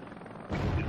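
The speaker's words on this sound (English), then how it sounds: "Obviously, the TV guided missile isn't really for shooting down helicopters." A TV-guided missile fired from a helicopter in Heliborne: a quiet engine hum suddenly gives way to a loud, rushing launch roar that holds to the end, close and alone.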